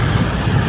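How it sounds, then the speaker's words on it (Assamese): Rain beats down during a drive on a foggy road behind another vehicle, heard as a brief, steady wash of noise with a low rumble underneath. "বৰষুণ"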